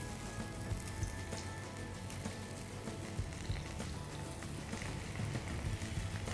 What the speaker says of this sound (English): I'm just going to heat some oil in the pan so that I can pan fry these slices of ribbon vadi